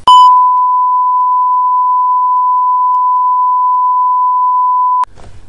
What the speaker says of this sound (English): my phone gets a text message.